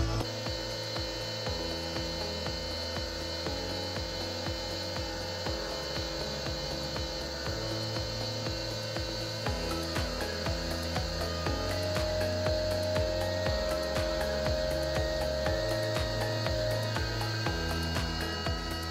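A Vickers 8.3 cc axial piston hydraulic motor runs under a 70-bar back-pressure test, making a steady mechanical whirring drone with rapid rhythmic pulsing and a faint tone rising as the speed climbs, close and without speech.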